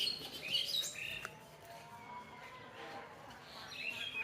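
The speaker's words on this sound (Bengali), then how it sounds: "এদিকে কতগুলো কিচিমিচি করতেছে" Birds squawk and chirp inside a pigeon farm, with scattered sharp calls near and further off over a quiet background, fairly faint overall.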